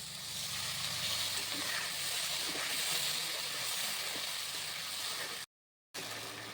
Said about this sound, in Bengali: মশলা ভাজা হয়ে গেছে, হালকা জল দিয়ে দিব।